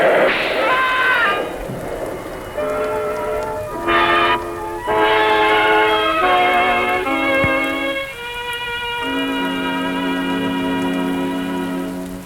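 An elevated train rumbles past with a steady wash of rail noise, while shifting tonal sounds rise and fall over it for several seconds.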